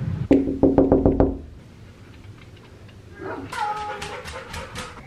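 Dogs whimpering and yipping indoors in a home, a quick run of sharp, close yelps and knock-like thumps at first, then after a quieter pause, higher whining whimpers.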